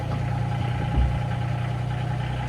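The Kubota engine of a Bobcat 320 mini excavator runs at a steady, rumbling idle with a low, continuous hum and a single brief thump partway through.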